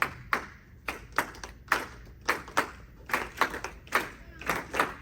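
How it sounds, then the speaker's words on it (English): Hand clapping in a steady rhythmic pattern, sharp close claps in small repeating groups over five seconds, alone without talk. "let's get our first clap going again"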